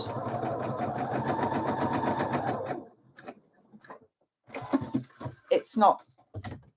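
A sewing machine runs a single gathering row of stitches on a Frida blouse, whirring steadily for about three seconds before stopping, followed by scattered handling clicks and a voice.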